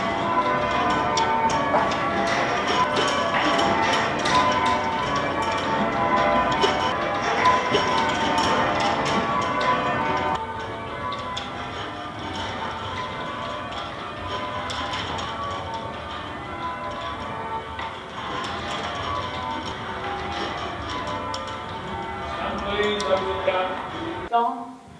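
Church bells rung by a team of ringers in a tower peal in a continuous, overlapping sequence of bright strikes, loud and close throughout with no pause.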